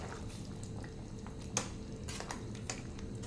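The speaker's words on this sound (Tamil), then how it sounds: "இப்போ நல்லா கலந்து விட்டுறலாங்க" Spoon stirring ground coconut into a pot of cabbage ball gravy, a soft wet scraping with a few clinks of metal against the pot, one sharper knock near the middle, steady and close.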